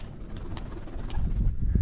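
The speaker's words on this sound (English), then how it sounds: "The pigeons." Pigeons coo low and murmuring among Tibetan-style buildings in Ladakh, mixed with outdoor wind and ambient noise, with a few brief higher chirps above the rumble.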